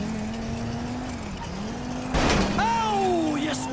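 A car in GTA 5 drives with a steady engine hum, then crashes with a sudden loud impact and a screeching, scraping slide, under short bits of talk.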